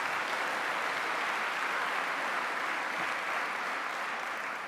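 A large audience at a university address applauds steadily throughout, a dense, even wash of clapping from many hands with no voices standing out, holding constant before easing slightly at the end.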